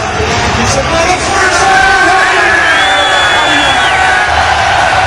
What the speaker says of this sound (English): this crowd, listen to this crowd, man